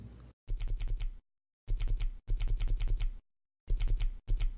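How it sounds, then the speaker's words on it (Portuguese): A file name being typed on a computer keyboard: quick bursts of crisp key clicks in rapid runs, separated by short silent pauses, close and clear with nothing else heard. "Agora eu vou digitar o um nome"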